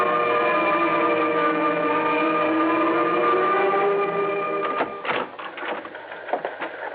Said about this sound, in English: Johnny, I've been staring at that teletype machine out there until I can't see straight.